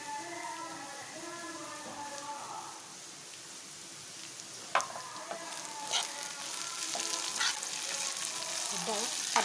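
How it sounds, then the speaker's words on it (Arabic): Onions fry in hot oil in a pan as they turn golden for Egyptian koshari: a dense, close sizzle with crackling pops and occasional stirring, and a voice briefly at the start. "ده البصل اهو بيتحمر اهو"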